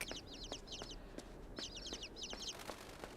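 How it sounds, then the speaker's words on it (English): Birds in the video game INSIDE cluck and chirp in quick repeated trills over low ambient noise, coming in two clusters of short calls. "Nope, they were birds and they skedaddled."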